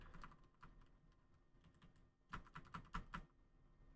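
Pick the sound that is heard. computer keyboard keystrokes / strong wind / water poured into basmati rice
computer keyboard keystrokes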